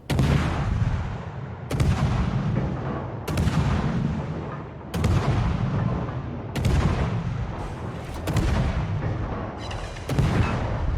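Naval guns aboard the ship Friesland fire in a World of Warships-style naval battle game, seven loud booming salvos spaced roughly a second and a half apart, each with a rumbling decay.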